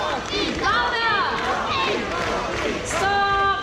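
An audience at a Jurong Bird Park show chants a macaw's name in unison: a loud, dense crowd of voices repeating steadily and filling the space, with clapping hard to pick out beneath it.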